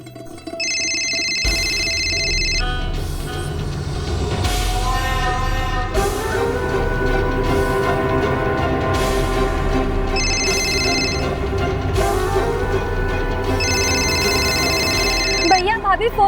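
A telephone rings repeatedly and goes unanswered, the electronic ring bursts recurring in a regular pattern over a dramatic music score, with people speaking in between.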